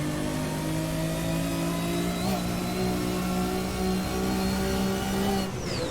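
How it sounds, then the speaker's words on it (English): Race car engine in Assetto Corsa droning steadily at high revs on the Nürburgring, a sustained loud engine tone that dips briefly as the car brakes for Hocheichen, then pulls again. "Braking now for Hocheichen before the straight over the Flugplatz"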